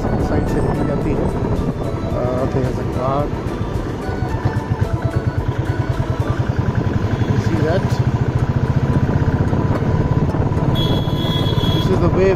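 A Royal Enfield Bullet motorcycle engine thumps steadily with a pulsing rhythm as it rides past traffic at a toll plaza, loud and continuous, with someone talking over it.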